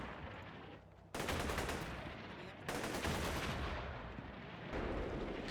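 Sustained gunfire from Soviet squads in the Combat Mission Cold War video game, with dense bursts of rifle and machine-gun shots in rolling volleys that surge, drop briefly, then resume loud and close.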